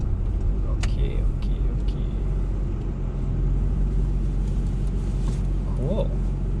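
A tuned stage 1 Porsche Panamera in Sport Plus mode gives a steady low engine drone from inside the cabin, with people talking over it throughout.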